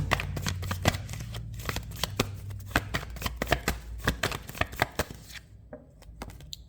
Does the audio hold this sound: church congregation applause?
no